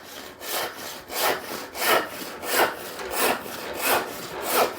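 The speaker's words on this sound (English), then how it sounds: "I'm now sawing flat." A hand rip saw cuts along timber in even, regular push-pull strokes, about seven rasping passes, close and clear with no talk.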